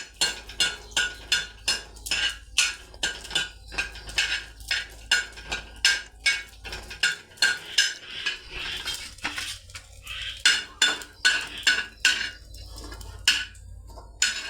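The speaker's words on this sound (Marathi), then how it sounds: "असं खोबरं भाजून बरं घेते हावरी भाजून" Dry coconut roasts in a pan while a metal spoon scrapes and knocks against it in quick, regular strokes, loud and close, with no voices.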